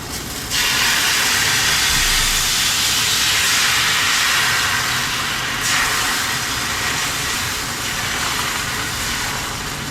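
Rava dosa batter made from semolina with salt, chilli and cumin sizzles on a hot pan with oil, a steady loud broadband hiss that starts abruptly and holds through the whole stretch with no talk.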